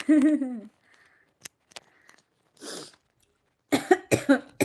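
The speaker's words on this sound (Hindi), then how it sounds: "बहुत खांसी हो रही है दोस्तों।" A few coughs, the first one harsh and drawn out, then short scattered coughs and a final burst of rapid, loud coughing nearby.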